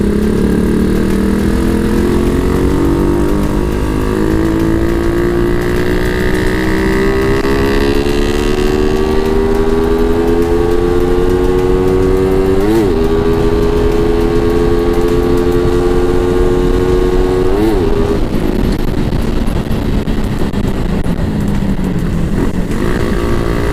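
A Suzuki Raider 150 motorcycle fitted with an APIDO CDI revs loudly and close up, its engine note climbing steadily in pitch with two brief dips partway through.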